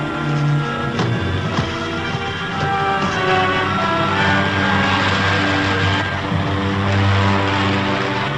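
A propeller aircraft engine in an old 1938 serial, heard as a loud, continuous droning roar with a wavering pitch as the craft loses altitude, with no talking.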